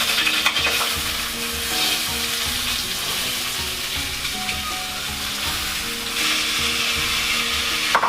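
Chana dal and mung dal poured into hot oil for a dhaba-style dal fry, a steady hissing sizzle with scraping stirs against the pan, continuous and close with no talking.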